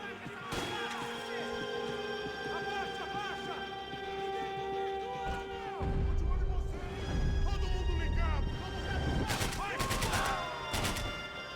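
Bursts of gunfire from a drum-fed shotgun ring out in the video game Max Payne 3, repeated sharp blasts over game music and ambience, with a heavier rumbling stretch midway and a voice talking at times.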